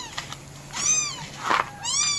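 A cat meows three times in quick succession, the calls rising and falling, close and clear against a quiet background.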